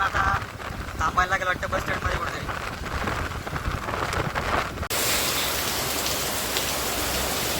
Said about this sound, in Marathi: इथे जोरात पाऊस सुरू आहे